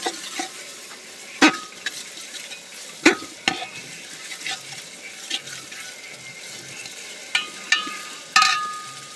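Ginger-garlic paste fries in a pan for chicken biryani, with a steady low sizzle broken by several sharp scraping clicks of a spoon stirring against the metal, close and fairly quiet, no talking.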